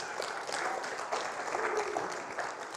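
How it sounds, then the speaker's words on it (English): Audience in a spiritual gathering hall applauding a barefoot violinist, a steady faint patter of clapping hands lasting a few seconds, alone without talk. "give him a warm round of applause, please"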